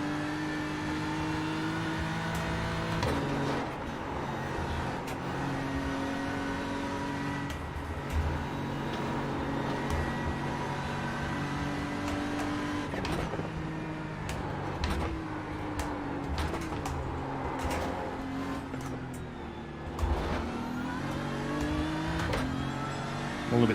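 GT3 race car engine lapping Bathurst in the iRacing sim, a sustained droning roar that rises and falls through gear changes and revs, with occasional higher whines from nearby cars and no talking.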